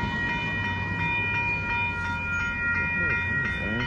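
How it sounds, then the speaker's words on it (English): A northbound Union Pacific grain train passes at Dittmar Road in Austin, Texas, with a loud, steady rumble of rolling freight cars and sustained horn-like tones above it. "Here comes a northbound Union Pacific grand train."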